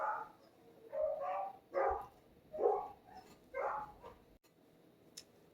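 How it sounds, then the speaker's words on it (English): Neighbors' dogs barking and howling outdoors, several rough bursts spaced about a second apart, faint and somewhat distant, with no talk. "That was like a good at least minute or two of some barking and howling"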